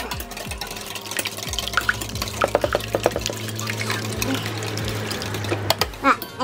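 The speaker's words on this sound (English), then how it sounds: "Gonna whisk up the eggs." Eggs whisked in a bowl for a snapper recipe, a quick metallic rhythmic clatter of the whisk against the bowl, close and fairly loud, running steadily with a voice over it.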